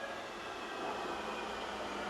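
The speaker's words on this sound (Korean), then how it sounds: "순간 열차가 들어왔습니다" Subway train pulling into an underground metro station, a steady broad rumble and rail noise holding at moderate level throughout, with no voices.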